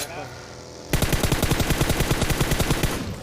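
Rapid automatic gunfire in PUBG Mobile bursts in loudly after a near-silent opening second, a steady stream of shots continuing to the end without a break.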